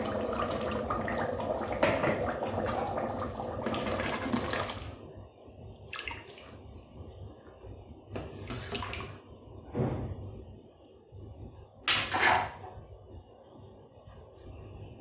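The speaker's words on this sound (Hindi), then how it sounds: "पानी डालना है।" Water is poured into a pot of roasted black chickpeas while cooking, giving a soft, close splashing and trickling pour with a few brief louder gushes and quiet gaps between them.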